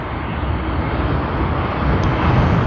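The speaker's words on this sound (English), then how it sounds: "That is NZ103 on the Boeing 777 for us." A Boeing 777 airliner at Sydney Airport produces a loud, steady broadband jet roar that swells slightly toward the end, heard alone with no talk.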